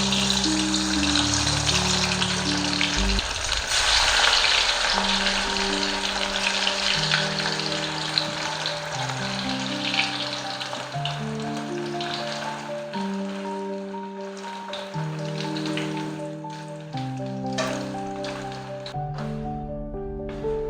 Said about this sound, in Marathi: तेल गरम झालंय, आपण वड्या तळून घेऊया.